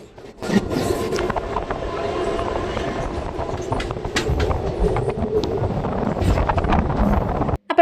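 A train near Thalassery, Kerala rumbles steadily along the tracks, a loud continuous rattle with wind buffeting, close and sustained throughout, ending abruptly.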